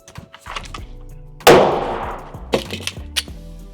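A single sharp pistol gunshot at an indoor shooting range rings out loud and near with a reverberant tail, framed by softer handling clicks and clanks before and after.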